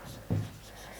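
During a class, notes are written in a single short scratching stroke, close and clear in an otherwise quiet room.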